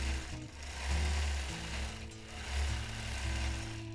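A sewing machine hums through free motion quilting of a gold and orange paisley design, its steady motor drone pausing briefly and surging again in close, continuous bursts with no talk.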